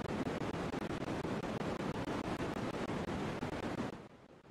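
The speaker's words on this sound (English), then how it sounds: "I hope you guys got like a little taste of what that white noise sounds like there." Steady, even white noise hisses loudly and unbroken for about four seconds, resembling wind or rushing water, then drops off abruptly to a quieter hiss.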